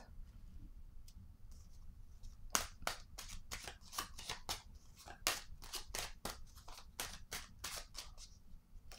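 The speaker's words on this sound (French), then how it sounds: "Je vais déposer une autre carte." Tarot cards laid and shuffled on a table, a rapid series of crisp, close papery snaps and slaps over a faint low room hum, with no voices.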